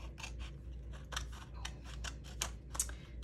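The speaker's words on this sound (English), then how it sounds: "So I'm going to just cut this part off." Scissors cut paper for a mixed media collage, giving a quick series of crisp snips and paper rasps, close and fairly quiet, with no talking.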